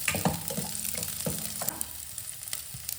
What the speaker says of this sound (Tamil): இந்த மாதிரி வெங்காயம் நல்லா கலர் சேஞ்ச் ஆகி நல்லா வெந்து வரணும்